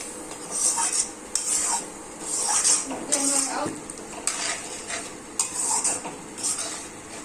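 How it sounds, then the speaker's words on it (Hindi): A spoon repeatedly scrapes and stirs potato and badi vegetable frying in a pan, with rhythmic metallic clinks over a light sizzle and a voice speaking in between. "बीच बीच में चम्मच चलाते रहें।"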